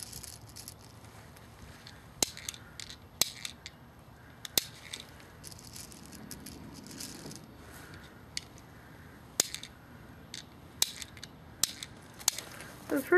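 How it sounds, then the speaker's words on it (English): BBs being loaded into a CYMA P.668A spring-powered airsoft gun outdoors, heard as scattered sharp plastic clicks and rattles over a low background hum. "You just pull this down and slide it in this little slot down here. You load it."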